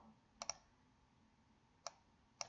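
A computer mouse clicks quietly in a hushed room: a quick double-click near the start, then two more single clicks spaced apart, with nothing else audible.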